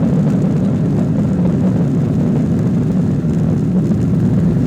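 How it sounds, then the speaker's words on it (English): A SpiceJet airliner rolling for takeoff at Pune airport, heard from inside the cabin as a loud, steady engine roar with broadband rumble holding constant throughout. "here the plane is running for takeoff"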